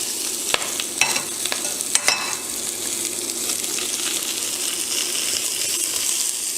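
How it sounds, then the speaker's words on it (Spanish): Chopped vegetables sauté for ramen in a hot pan, giving off a steady close sizzle with a few sharp scrapes and stirring clinks near the start, with no talk. "y vamos a agregar las verduras. Las vamos a sofreír igual,"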